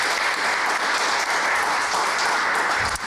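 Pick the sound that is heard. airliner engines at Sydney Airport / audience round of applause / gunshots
audience round of applause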